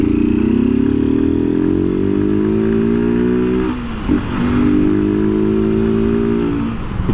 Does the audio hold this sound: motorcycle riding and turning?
yes